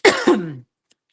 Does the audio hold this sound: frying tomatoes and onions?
no